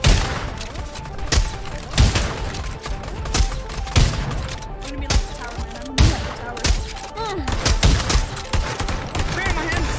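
Gunfire in Pavlov VR zombies mode crackles in rapid bursts and single sharp shots, loud and close, with players talking over it at times.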